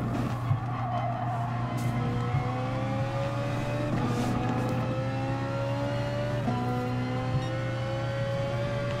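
Race car engines in GT Sport during a Gr.4 race at a seaside circuit, several cars droning and revving together with rising gear-shift sweeps and tyre squeal, a steady loud pack sound with no talk.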